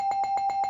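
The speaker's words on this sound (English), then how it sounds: "You knew I had to give Bray the bell" A bell sound effect rings in quick repeated strikes, about six bright dings in under a second, close and clear with no voices.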